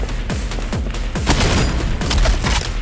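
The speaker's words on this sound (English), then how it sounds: "Other weapons are nearly perfect, like the shotgun. Oh, the shotgun is great." Shotgun fire in the wall-running shooter game SPRAWL, a rapid series of punchy, booming blasts in quick succession, loud and close with no talking.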